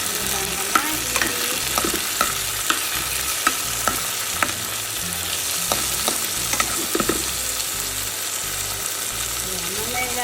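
Onions sauté in a hot pan, a loud continuous sizzle with regular scraping strokes of a spoon, heard close for about ten seconds.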